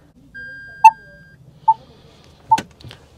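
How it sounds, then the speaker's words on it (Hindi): The reverse parking sensor of a 2022 Tata Nexon EV Dark Edition sounds three clean, evenly spaced beeps while the car backs toward a wall, with a faint click near the end. "यहाँ पे बीप करते रहेगी क्योंकि पीछे ऑब्स्टेकल आ रहा है"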